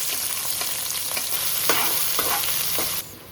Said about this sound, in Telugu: ఫ్రై చేసుకున్న ఆయిల్ ఉంది, దాంట్లోనే గీ యాడ్ చేస్తున్నాం అన్నమాట